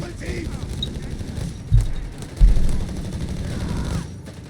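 MP40 submachine gun fire in a Company of Heroes 3 match, crackling bursts mixed into a continuous wash of distant battle noise with a couple of louder thumps, heard beneath a commentator's voice.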